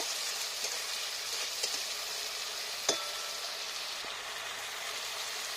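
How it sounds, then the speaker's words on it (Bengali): Fried potatoes stirred into sizzling spice paste in oil for a bottle gourd dish, a steady soft frying hiss with a few light utensil clicks and scrapes, one sharper knock near the middle. "এবার আমি ভেজে রাখা আলুটা দিয়ে দেব। আলুটা দিয়ে একটু নাড়াচাড়া করব।"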